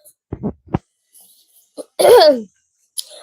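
A few short coughs and a throat clear, close and fairly quiet, with gaps of silence between them.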